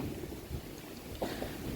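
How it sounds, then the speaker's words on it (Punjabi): Wind and rain storm sweeping over a ripe wheat field, heard as a steady, fairly loud rushing roar with gusty low buffeting and no voices. "ਤੁਸੀਂ ਦੇਖ ਸਕਦੇ ਹੋ ਪੱਕੀਆਂ ਫਸਲਾਂ ਦੇ ਉੱਤੇ ਮੀਂਹ ਪੈਣਾ"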